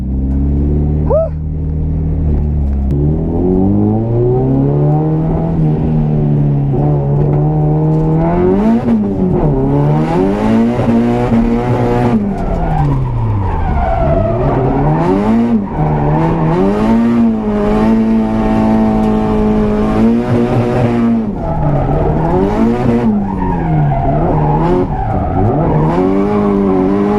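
A car with a 400HP SR20 engine drifts, the engine howling loudly as revs climb and dip through repeated shifts, with tire squeal mixed in, sustained and close throughout.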